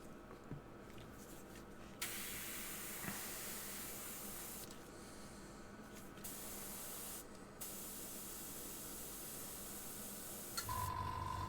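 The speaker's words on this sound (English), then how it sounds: "spraying onto your hand to get rid of the water first" An airbrush blows leftover water out onto a hand during model painting, a loud, steady hiss in several long bursts broken by short pauses, with no talking.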